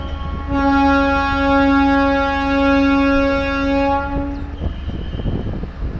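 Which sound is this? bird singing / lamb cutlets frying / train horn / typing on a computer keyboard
train horn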